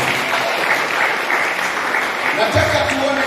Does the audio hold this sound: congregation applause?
yes